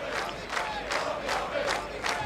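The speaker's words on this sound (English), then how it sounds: "there's plenty of applause all around the ground" Crowd at a New Zealand versus England Test cricket match applauds around the ground, a distant, steady roar of clapping and cheering that swells in repeated waves.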